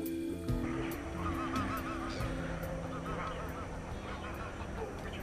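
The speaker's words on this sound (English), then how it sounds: "These geese, especially the barnacles, have some formidable long-distance flights ahead of them." Barnacle geese honking at a river anchorage in late summer, a dense, continuous chorus of many birds calling over one another, fairly close and loud throughout.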